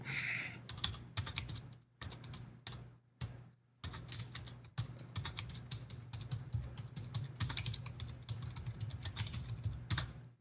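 Rapid typing on a computer keyboard, bursts of quick clacking keystrokes with brief pauses, close and clear over a low steady hum.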